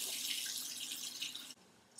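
Water pours steadily into a curry pot already holding onions, carrots, garlic and curry, a close, loud splashing rush that stops abruptly near the end.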